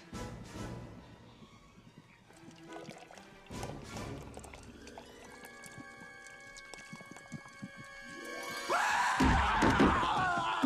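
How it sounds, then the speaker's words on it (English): Liquid is poured down a character's throat in an animated scene, with gurgling, pouring and splashy sounds under scattered effects, ending in a louder noisy burst. "go ahead and pour it on down his gullet"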